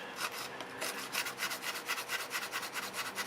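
Sandpaper rubbing over a repaired plastic and metal surface patched with plastic putty, quick rhythmic back-and-forth scratching strokes, close and alone, speeding up toward the end.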